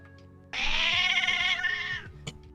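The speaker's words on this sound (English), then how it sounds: "That's the brattiest meow I've ever heard in my life." A female house cat lets out one long, loud, drawn-out meow up close that rises and then tapers off. Nobody talks over it.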